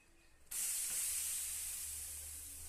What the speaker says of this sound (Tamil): தோசைக்கல்ல அடுப்புல வச்சிருக்கேன். கொஞ்சமா தண்ணியை தெளிச்சு விட்டுக்கலாம்.